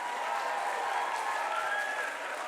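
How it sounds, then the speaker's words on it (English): An audience at a student literature conference applauds as poet Yomi Sode returns to the stage, a continuous, even wash of clapping with a faint murmur of crowd noise beneath it. "Please give him a round of applause"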